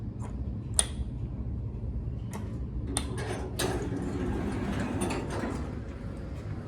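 A steady mechanical hum with scattered clicks and clunks of vintage Otis traction elevator doors and machinery, a couple of sharp metallic ticks standing out.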